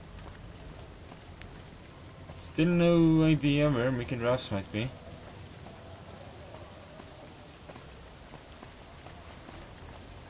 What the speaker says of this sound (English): There we go, it's raining.